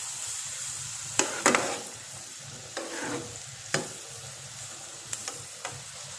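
A noodle chaat mixture with chopped tomato is stirred and fried in a pan over medium flame, giving a faint steady sizzle broken by several sharp scraping clatters of the spoon against the pan.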